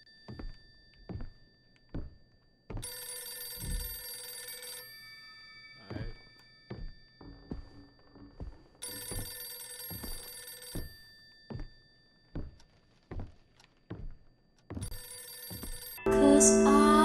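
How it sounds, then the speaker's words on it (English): An old landline telephone rings in the horror game Visage, its bell sounding in repeated bursts against a quiet, ominous backdrop, broken up by heavy dull thunks between the rings. "The phone. The phone is ringing."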